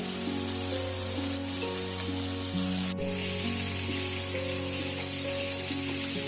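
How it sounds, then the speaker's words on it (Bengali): Steady, loud sizzling of onions and garlic frying in a pan, with a continuous crackling hiss and a faint low hum underneath. "পেঁয়াজটা অলরেডি লাল হয়ে গেছে, আর তার সাথে রসুনটাও ভাজা হয়ে গেছে"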